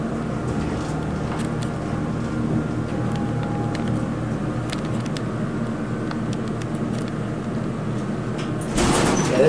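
A Haughton hydraulic elevator with a new motor, running at a Boscov's store: a steady low mechanical hum and drone throughout, with a louder broadband rush near the end.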